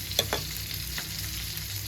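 A pan of prawn head curry bubbles and sizzles softly and steadily nearby, with a couple of brief stirring scrapes at the start.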